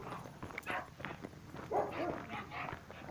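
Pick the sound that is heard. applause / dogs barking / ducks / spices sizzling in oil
dogs barking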